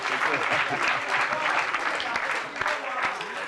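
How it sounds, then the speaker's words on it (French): A public audience applauds guests on a French-language talk show, sustained dense clapping filling the whole moment with some voices mixed in. "On peut les applaudir, s'il vous plaît, madame, monsieur."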